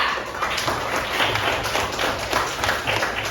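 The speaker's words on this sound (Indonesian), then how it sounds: "Kasih tepuk tangan untuk Mika." Children in a classroom clap together during a religious-education lesson, producing a few seconds of fairly loud, continuous clapping with no talking over it.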